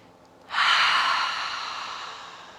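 A single long exhale through the nose or mouth as a yoga cleansing breath, starting abruptly and fading slowly over about two seconds, soft and close with no talk.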